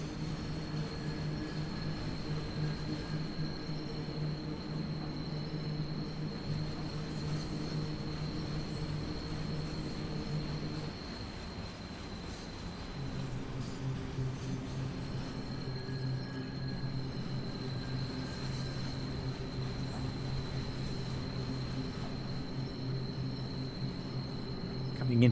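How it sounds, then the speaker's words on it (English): Persistent high-pitched wheel flange squeal from a train in a rail simulator game, layered over rumbling rolling noise, with the tone shifting midway before continuing steadily. "It sounds like wheel flange noise."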